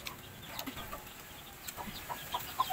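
Chickens cluck faintly in a quiet outdoor setting, a few soft scattered calls over low background noise with no one speaking.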